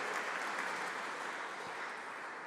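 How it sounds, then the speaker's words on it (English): An audience at an anniversary gathering applauds in a steady, even wash of clapping that sounds fairly faint and distant. "Could we have one more round of applause for all the founders, the staff, the directors, and the current staff team?"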